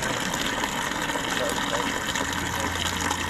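Water drains from a basin at an equator demonstration in Uganda, a continuous close gush with a steady liquid rush throughout and a low hum near the end.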